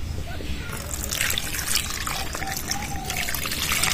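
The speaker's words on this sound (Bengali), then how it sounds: "এবার আমটা আমি ভালো করে জল দিয়ে ধুয়ে নেব।" A mango being washed under running tap water, a steady close trickle and splash that swells briefly midway, with no talk over it.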